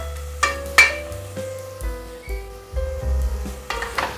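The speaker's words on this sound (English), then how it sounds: "Keep stirring it, don't let the tomatoes burn." Chopped tomatoes fry in a pan for a bottle gourd curry and are stirred, a close sizzle with sharp clinks and scrapes of the spoon against the pan over a low hum.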